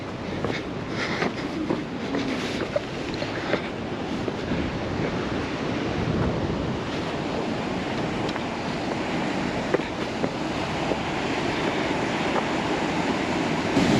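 Water flowing unseen beneath rocks in a dry riverbed, a steady broadband rush with faint wind buffeting, continuous and moderately loud with no talking.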